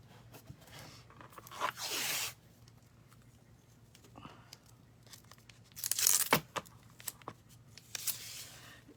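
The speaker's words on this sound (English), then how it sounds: "I'm just taping the edges" Tape being pulled off a roll and pressed along the edges of a resin project, with a few sharp ripping strips between quieter rustles and taps, fairly close and soft.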